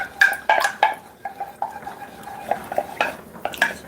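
A spoon stirring creamy dill sauce in a metal pot, clinking and scraping against the sides in quick irregular taps, close and fairly clear with no talking.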